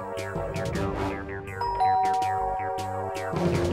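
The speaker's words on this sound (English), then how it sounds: "I'll ring the bell." A cartoon bell rings in a children's animated show, a run of repeated bright chiming dings in a quick rhythmic pattern, loud and upfront with no speech over it.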